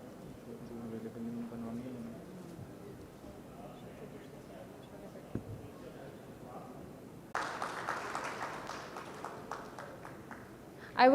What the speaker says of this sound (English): A huge round of applause for Mr.